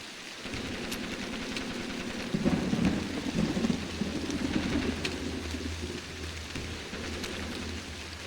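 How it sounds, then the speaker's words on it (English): Steady, heavy rain pours down in a video game, with a low rumble of thunder swelling partway through and then settling back under the constant downpour. "I leave this photo lying here in the rain?"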